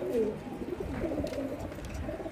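Pigeons kept by a hobby fancier coo nearby, several soft throaty rolling calls overlapping against a low background, with no voices.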